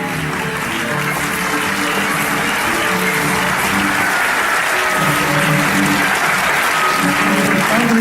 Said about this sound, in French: On peut applaudir Silvio Boligno.